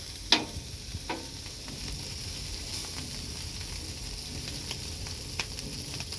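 Rice sizzles and fries steadily in butter on a homemade hibachi griddle, a continuous close crackling hiss with a few sharper pops near the start, heard alone without any voices.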